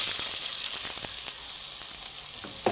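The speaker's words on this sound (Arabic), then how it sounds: "نجيب حله نحط فيها معلقتين زيت، ولما الزيت يسخن ننزل بالرز" Rice hits hot oil in a cooking pot and sizzles, giving a steady frying hiss with a few small clinks and pops near the end.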